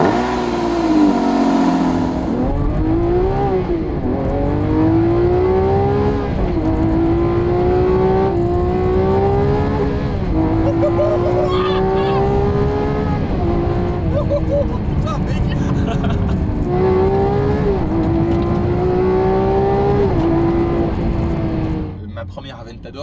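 Sports car engine revving hard in repeated rising sweeps, loud and close, each pull climbing in pitch before dropping back, going on for about twenty seconds before cutting off near the end.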